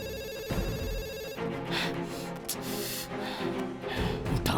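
A phone rings in a tense film scene, repeating electronic ring tones that are loud and close, over dramatic background music with no talking.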